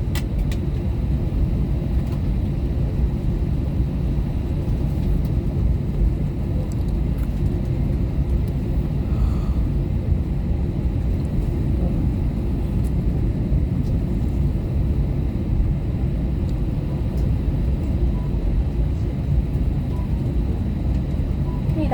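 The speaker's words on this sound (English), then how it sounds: "飞机正在滑行" Philippine Airlines airliner taxiing after landing at Xiamen, heard from inside the cabin as a steady, loud low engine rumble and whoosh that continues without a break.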